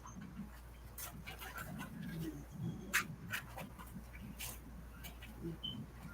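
Puppies panting and making small noises close by, with quick breathy panting, faint whimpers and scattered sharp clicks over a low steady hum.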